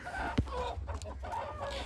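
Backyard laying hens cluck softly and intermittently nearby, with a brief sharp sound early on and a low background hum.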